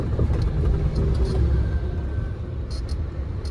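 Road traffic in a jam on the way to Medan, heard from inside a car: a steady low engine rumble and road hum with faint passing vehicle noise, continuous and fairly close, with no talk.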